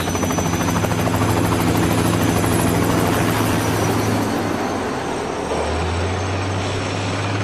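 A helicopter carrying a concrete bucket load roars close by on a cable car construction site in Hong Kong, steady rotor thumping and engine whine, loud and continuous, its pitch shifting slightly near the end.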